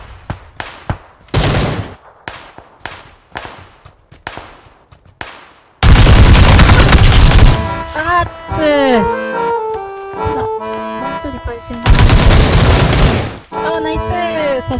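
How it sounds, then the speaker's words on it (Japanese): Bursts of automatic gunfire and single shots from the PS4 battle royale game PUBG, some sharp distant cracks in quick succession, then loud sustained volleys and booms, with game music and effects layered over them. "撃ってる。 どっから撃ってるんだろう。 援護射撃。"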